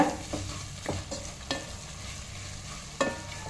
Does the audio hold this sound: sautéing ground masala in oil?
yes